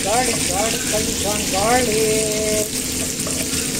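Onion and garlic sizzle as they fry in butter in a pan, a close, continuous crackle with some faint clinks and background sounds, no speech.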